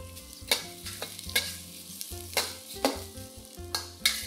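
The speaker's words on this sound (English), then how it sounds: "Stir fry all this for about 2 minutes." Mushrooms and aromatics are stir-fried in a pan. A spatula scrapes and tosses in steady strokes about every half second over a constant close sizzle, with soft background music and no talking.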